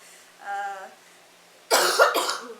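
Two sharp, loud coughs close to the mic, following a brief faint hum or throat sound.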